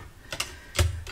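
A small Sidekick stamping machine clicks through a few quick, sharp mechanical snaps close up, three brief bursts in about a second with no talking.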